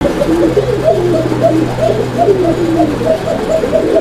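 Pigeons cooing in a loft of Arabian breed birds for sale, repeated soft rhythmic coos close by over a steady low hum.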